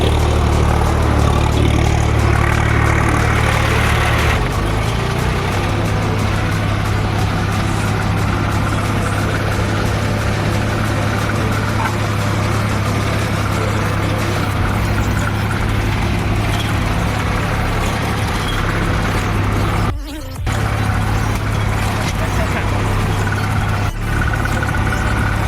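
A tractor engine runs steadily close by as the tractor is driven near a river, a low, even drone lasting throughout with a brief dip in the sound about two-thirds of the way through.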